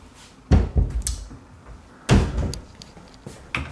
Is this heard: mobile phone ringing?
no